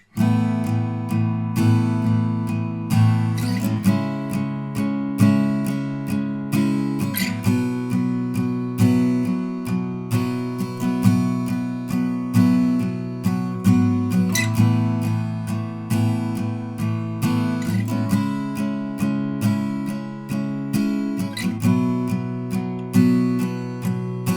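Acoustic guitar strumming chords in a steady, repeating pattern, full and bright, with regular accents and no voices.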